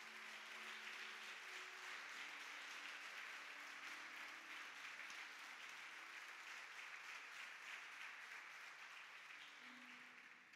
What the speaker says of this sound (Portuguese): Você pode aplaudir Jesus nessa manhã?